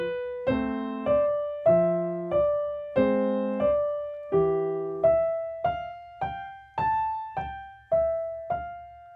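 Left-hand chords of Scott Joplin's The Entertainer on piano, struck in a steady bouncing rhythm of about a dozen separate chords, each ringing briefly and decaying, played alone and clearly.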